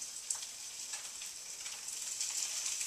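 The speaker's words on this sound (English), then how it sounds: "You'll hear a little sizzle." Almond parmesan crusted chicken sizzles steadily in a hot oiled skillet, a soft continuous hiss with faint crackles and pops, close and alone without talk.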